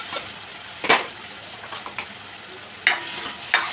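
Sprouted field beans stirred into a sizzling onion tempering with turmeric for a Konkan-style bean curry, giving a soft steady sizzle broken by a few sharp scraping stirs near the start, middle and end.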